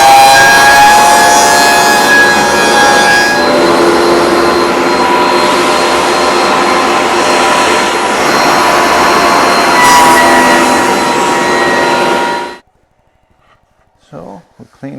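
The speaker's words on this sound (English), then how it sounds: "we're going to quickly run them through the thickness planer" A thickness planer runs cherry wood boards through with a loud, steady machine roar and whine that holds for about twelve seconds, then cuts off abruptly, leaving near silence with a few faint knocks.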